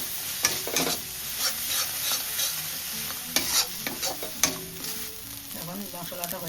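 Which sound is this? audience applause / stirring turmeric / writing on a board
stirring turmeric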